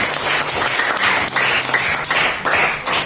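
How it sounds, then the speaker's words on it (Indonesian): A classroom of students clapping for a presenting group, a dense, loud burst of many hands applauding steadily for the whole stretch with no voices. "kita berikan aplaus untuk kelompok 1"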